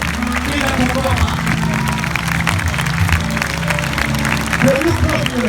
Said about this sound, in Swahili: Let us clap for progress. Tupige makofi kwa dakika mbili.